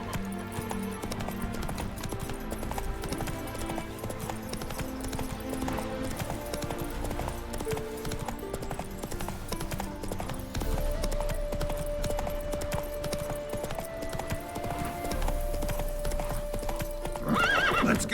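Roach the horse gallops in The Witcher 3, with steady rhythmic hoofbeats and a whinny over a busy layer of game music and ambience, loud and continuous throughout.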